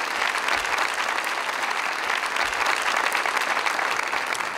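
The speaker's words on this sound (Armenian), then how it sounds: "ուզում եմ հենց այս երգից հետո բոլորս ծափարենք" A live concert audience applauds in a dense, steady wash of clapping that holds evenly throughout, with no voices standing out.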